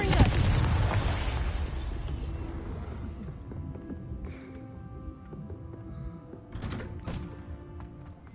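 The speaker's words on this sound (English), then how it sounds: "because I just used a attacking spell such as Confringo, my wand has gone red" A Confringo attacking spell cast in Hogwarts Legacy bursts with a loud, booming explosive blast that fades out, followed by smaller crackling impacts.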